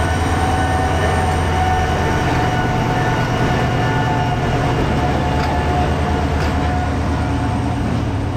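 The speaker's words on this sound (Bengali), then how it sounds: "ট্রেন 16ই আসতেছে, থামবে হয়তো এখানে" A train pulls in on the main line at Kumira railway station with a steady, loud rumble and rolling wheel noise that continues without a break.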